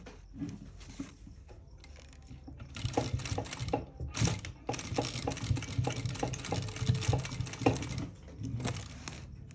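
A sewing machine stitches a jeans hem in short bursts, its rapid clattering needle starting and stopping, growing busier and louder midway before halting near the end.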